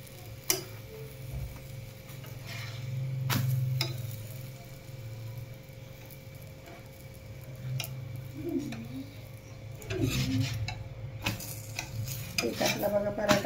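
A vegetable paneer cheese paratha roasting crisp on a pan, quiet low sizzling under scattered clicks and taps of a utensil against the pan, with a few sharper knocks near the end and no voices.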